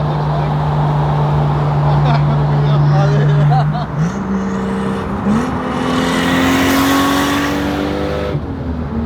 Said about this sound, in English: We got some Genesis coming up doing a racer flyby